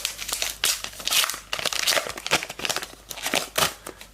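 An AFL Team Coach trading card packet is torn open by hand, producing a close, continuous run of sharp crinkling and ripping of foil wrapper.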